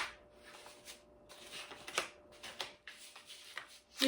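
A brown paper bag being folded by hand into a seed container, giving soft papery crinkles and rustles in several short bursts, close and fairly quiet, with no talking.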